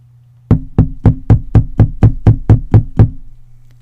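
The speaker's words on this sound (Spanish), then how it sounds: "Lejos escuchaba el llamado en la puerta." Eleven evenly spaced knocks on a door, sharp and close, in a steady quick rhythm over a low hum.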